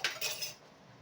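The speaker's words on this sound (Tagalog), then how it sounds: "Gabi na kasi, maghugas tayong pinggan." Plates and cutlery clink while a large pile of dishes is washed, a couple of bright metallic clinks close by, followed by quieter rattling that fades, with no talk.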